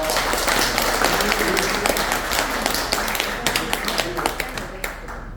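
An audience at a Yeouido political forum applauds after lawmaker Cho Kyoung-tae's lecture: steady, dense clapping close by that thins into sharper individual claps toward the end.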